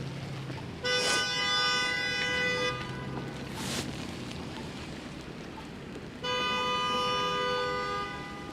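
Car horns at a busy downtown Toronto intersection during an evening snowfall: two long, loud honks, one at the start and one near the end, with a short toot between them, over wet traffic hiss.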